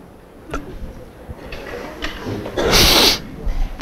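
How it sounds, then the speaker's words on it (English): A single loud, sharp sneeze bursts out near the microphone partway through, set amid quiet room noise and small shuffling sounds. "I'm going to sneeze now"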